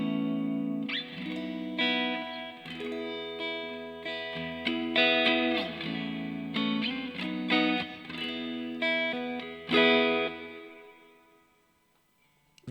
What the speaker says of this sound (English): that sounds like a plate